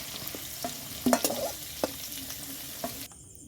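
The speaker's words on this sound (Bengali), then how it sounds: "দেখুন এই আলুটা আমি প্রথমে ওই তেলেতেই আমি আলুগুলো একটু ভেজে নেব" Potato pieces fry in oil in a kadai with a soft, steady sizzle, broken by a few sharp spatula scrapes and taps before the sound cuts off abruptly.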